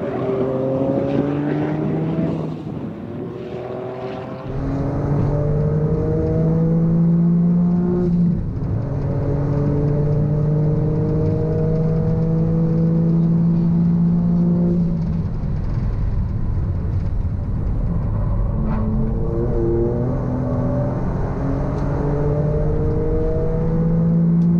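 Toyota GR Yaris lapping Wakefield race track during a passenger session, its engine loud and close throughout, revving up through repeated rising gear pulls with brief dips at shifts.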